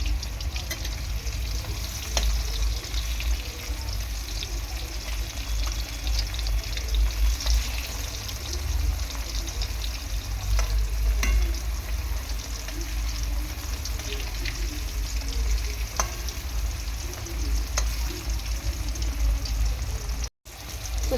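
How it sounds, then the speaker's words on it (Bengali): Pumpkin pieces fry in oil in a pan while being turned over, a steady close-up sizzle with occasional scraping stirs throughout. "তো কুমড়োটাও উল্টে পাল্টে ভেজে নেবো আমি।"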